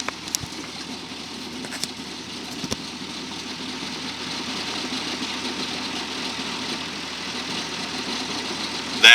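Round baler running steadily while net wrap goes around a finished bale, a continuous mid-pitched mechanical drone with a few brief knocks early on and no talk.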